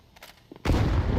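A grenade explosion in the video game Counter-Strike 2 bursts loud and close after a second of near quiet, leaving a dense, sustained roar that fills the rest of the moment.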